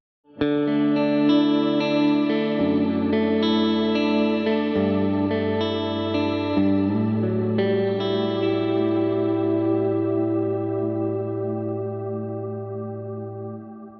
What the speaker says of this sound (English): the thing that Strymon is very famous for, which is the shimmer reverb